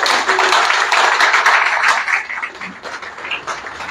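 An audience applauds at a formal public-sector ceremony, a dense, steady wash of many hands clapping together that thins slightly toward the end.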